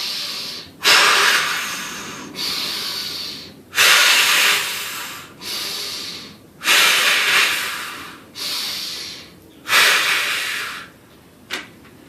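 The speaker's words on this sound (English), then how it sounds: "And just breathe in." Deep, forceful breaths during nauli kriya core activation practice for martial arts, about seven loud rushing inhales and exhales alternating in a slow steady rhythm, close and clear with no talk.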